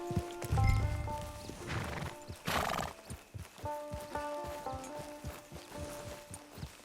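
In Red Dead Redemption 2 Online, a horse whinnies loudly while its hooves clip-clop in a steady walking rhythm, with game music and ambience underneath.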